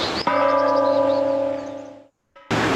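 A town's Bell of Renewal, a church-style bell, rings out once with a strong clang and long shimmering decay that fades to silence, then a second strike begins near the end.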